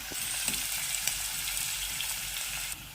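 Onions frying in a pan until reddish-brown; constant close sizzle with light crackles and occasional stirring ticks, steady and moderately loud throughout.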